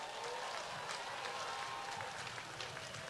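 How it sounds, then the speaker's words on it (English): Dense, continuous applause from a crowd outdoors at a community wall unveiling honoring local people, a steady, distant wash of many hands clapping with no pauses. "everybody have a great round of applause for our honorees"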